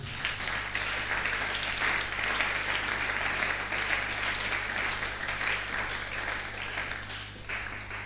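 A church congregation claps and cheers to acclaim the Lord at a Sunday service, with sustained dense applause filling the room and easing off slightly near the end.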